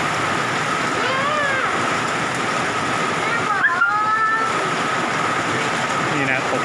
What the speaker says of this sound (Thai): เกิดพายุฝนลูกเห็บนะครับลูกเห็บกำลังตกเลยตอนนี้